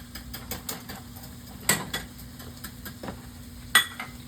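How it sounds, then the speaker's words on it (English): A whisk beating a sauce in a bowl, a quick series of light metallic ticks and clicks in an uneven rhythm with two sharper taps, close and fairly quiet. "And one more whisk"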